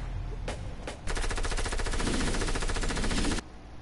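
Submachine gun fire in a video game: two short early shots, then a sustained rapid automatic burst lasting over two seconds, loud and close, stopping abruptly.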